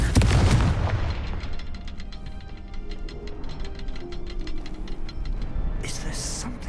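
A Confringo fire spell in Hogwarts Legacy bursts with a loud, deep boom at the start, then a rumbling, crackling tail as a voice speaks over it.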